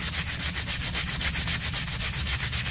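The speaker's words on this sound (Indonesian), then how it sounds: "untuk membersihkannya ini bisa kita amplas ya. Ini menggunakan amplas yang kasar." Steady back-and-forth rasping of coarse sandpaper scrubbing the front brake disc of a Honda Brio, loud and close in a quick rhythmic pattern, with no talking.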